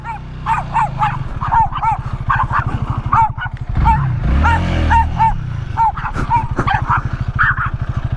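Several dogs bark and yip in rapid, repeated bursts close by, over the steady throb of an idling Honda Rebel 300 motorcycle.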